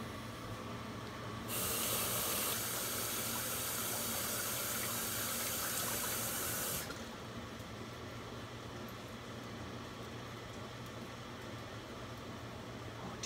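Kitchen tap water runs into a sink for about five seconds as food is rinsed during home cooking, a steady hiss rising over low background noise and then shutting off.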